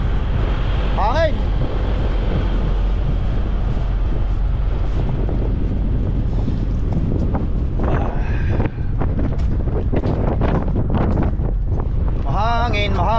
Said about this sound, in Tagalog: Mahangin, mahangin!